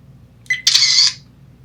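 VIOFO A129 Pro dash cam gives a short beep followed by a loud electronic camera-shutter snapshot sound, a single bright burst lasting about half a second in a quiet room.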